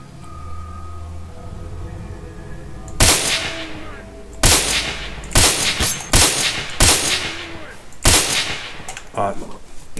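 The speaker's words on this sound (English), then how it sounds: "You've got to be quite clever about your shooting" Gunfire in the video game S.T.A.L.K.E.R. Call of Pripyat with the Misery mod: a string of loud, sharp shots after a low rumbling lull, fired singly and in quick pairs at irregular intervals.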